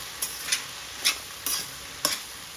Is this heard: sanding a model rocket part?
no